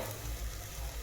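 Masala spices sautéing in a pan for a spicy mutton rassa, a steady close sizzle and frying crackle running continuously with soft stirring, no talking.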